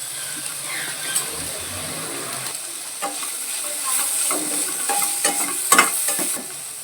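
Tomatoes and white sesame seeds being stirred into vegetables in a hot pan, gentle sizzling under a run of scraping, clattering spoon strokes that grow busier toward the end.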